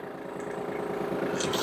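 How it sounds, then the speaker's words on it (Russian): Kubota GL220 tractor diesel engine running at idle just after starting, a steady low rhythmic chug with faint higher noise toward the end. "слышно, как легко трактор запустился"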